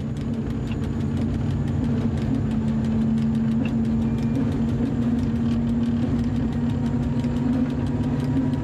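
A CC 72000 diesel locomotive gathers speed, its heavy engine drone steady and close with a faint rising tone and rhythmic clatter over the rails.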